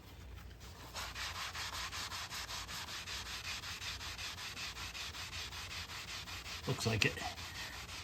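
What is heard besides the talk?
rubbing arcade cabinet laminate with a magic eraser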